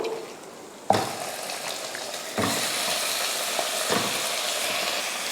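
Chicken added to sautéed onions in a pan for chicken curry, a sharp sizzle bursting in as it hits the hot oil, then a steady, close frying hiss with stirring.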